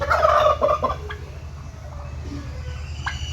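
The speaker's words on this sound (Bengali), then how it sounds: "এই যে হলো মিজানের হাঁস" A group of ducks near a house calls with a burst of loud, harsh quacking at the start, then fainter calls over a low steady hum.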